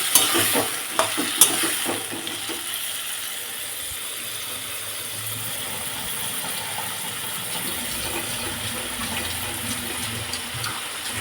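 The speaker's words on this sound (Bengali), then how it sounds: "এবার ভালো করে নাড়বো" Cauliflower, potato and spices fry in a pan while being stirred: a steady, close sizzle runs throughout, with scraping and clicking from the stirring early on, and no talking.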